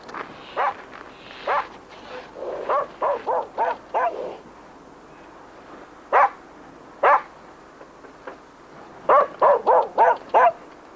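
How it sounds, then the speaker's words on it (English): An Icelandic sheepdog greets visitors with a series of sharp, enthusiastic barks, some singly and some in quick bursts of three or four, close and loud against a quiet background. "A natural watchdog, the Icelandic sheepdog gives an enthusiastic welcome when visitors come calling."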